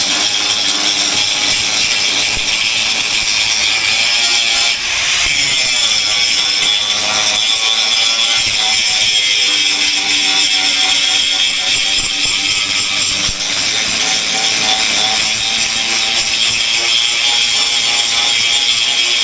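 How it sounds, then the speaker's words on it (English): A grinder grinds down a weld on a steel trailer gate, a loud continuous high-pitched whine and scraping that holds steady throughout with slight shifts in pitch and pressure. "I'm going to go ahead and grind it real quick because I need to extend my line"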